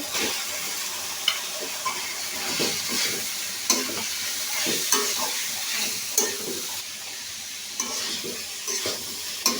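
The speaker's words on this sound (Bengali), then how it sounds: "কাঁচামরিচ, চিংড়ি মাছ কষানো হয়ে গেছে, বাঁধাকপি দিয়ে দিব।" Shredded cabbage with small shrimp and green chili frying in a pan, a steady sizzle broken by repeated scraping stirs of a spatula against the pan, fairly close and without talk.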